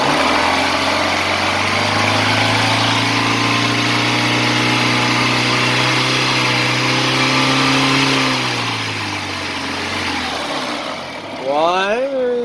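Car engine of a red Honda Civic EK revved up to roughly 3000 rpm, a steady loud mid-pitched drone held for several seconds before dropping back toward idle, with a short rising blip near the end.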